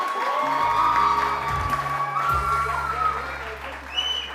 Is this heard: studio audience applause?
yes